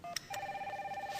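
A telephone rings indoors, starting with a brief chirp and then a steady warbling electronic tone that pulses rapidly and keeps going, moderately quiet in a calm room.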